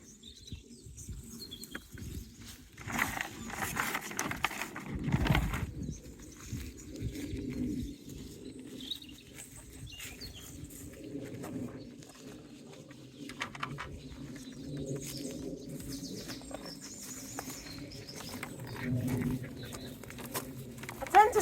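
Hens scratching and pecking around for scattered maize on a rural Galician farm, with soft clucks and chirps coming and going at a moderate distance over a quiet background.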